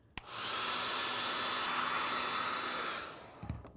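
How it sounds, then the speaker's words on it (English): A hairdryer blows steadily on a painted clay Cape buffalo head, a loud, continuous airy roar lasting about three seconds after a click on, then cutting off with a brief clatter. "we're going to take the hairdryer and blow it a little bit"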